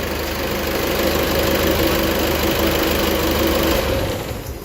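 A common rail diesel engine idles loudly with a steady knocking rumble during a fuel injector compensation test, then winds down as it is switched off near the end while the ignition stays on.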